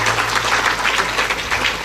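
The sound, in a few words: audience applause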